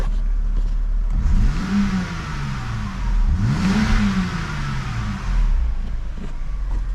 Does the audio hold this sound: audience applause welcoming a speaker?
no